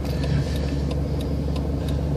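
Motorcycles ride along a road near a motorcycle rally, a loud, steady engine drone close by, with a faint rhythmic ticking over the rumble.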